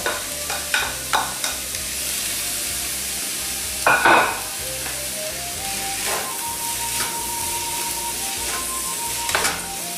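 Chopped onions frying in a pan for green pepper chicken, a steady sizzle with clattering stirring strokes, a burst of louder hiss partway through.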